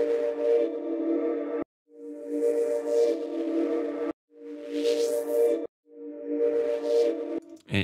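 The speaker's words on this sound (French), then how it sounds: "le bruit blanc" Ableton's Erosion effect in white noise mode applied to a synth sound: four sustained, buzzy tonal phrases separated by brief silences, with hissy noise swelling high above the tone in places.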